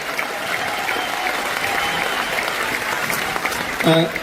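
Loud, sustained applause from a large stadium audience at an RCM event in Delhi, steady dense clapping throughout with a brief louder swell near the end.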